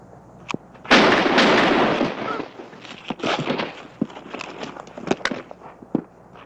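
Gunfire in a western movie shootout: a loud, sustained blast of shots opens the scene, then sharp, scattered cracks and thuds follow at irregular intervals, with no one speaking.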